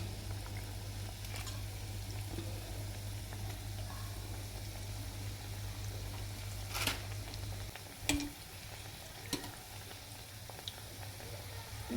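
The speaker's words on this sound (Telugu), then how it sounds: "మన దగ్గరున్న డో మొత్తాన్ని పైప్ చేసేసుకొని గోల్డెన్ బ్రౌన్ వచ్చే వరకు ఫ్రై చేసుకోవాలి" Piped churro dough frying in hot oil, a quiet continuous bubbling sizzle with a low steady hum beneath and a few soft taps near the end.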